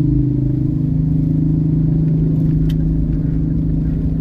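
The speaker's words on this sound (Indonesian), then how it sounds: "malam ini di jam-jam 11, jam-jam 10 ini arus kendaraan sudah lancar" Steady engine rumble of night road traffic on Jalan Sultan Alauddin in Makassar, cars and motorcycles passing close with a constant low drone, no voices.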